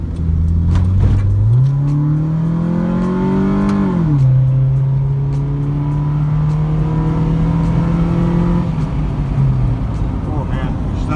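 A 2005 Hyundai Accent engine revs up and climbs through gears on a straight street, its loud rising drone shifting pitch and holding steady, heard close from inside.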